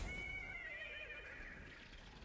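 A horse in the video game Destiny 2 gives a single long, high whinny that wavers and trails off over about two seconds, heard alone at moderate level with no talk.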